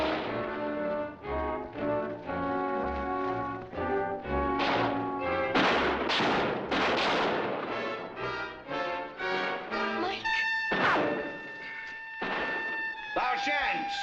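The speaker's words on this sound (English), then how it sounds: "Lao Shan, stop shooting and listen!" Gunfire in a 1953 action film battle scene rings out as repeated thuds and bursts layered under dramatic orchestral music, with no voices heard.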